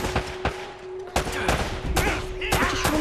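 Enemy gunfire rattles through a firefight in Uncharted: Drake's Fortune, with loud repeated bursts and single shots in close succession, plus game effects in the background.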